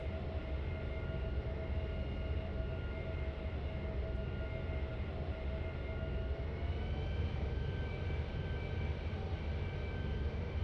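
FF A350 XWB airliner in a flight simulator, landing at Malta: a steady, loud jet engine roar with a broad rumble and sustained whining tones that drift slightly in pitch, unbroken and without speech.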